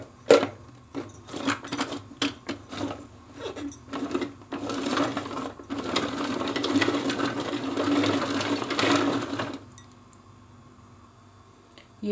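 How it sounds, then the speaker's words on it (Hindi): An electric chopper whirs as it chops onion and fresh coriander for kadhi pakora, running in a steady, close, continuous burst after a few short clicks, then cutting off abruptly near the end. "इन दोनों को मैं चॉपर में चॉप करूँगी।"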